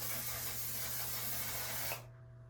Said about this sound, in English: And then I take the One Size setting spray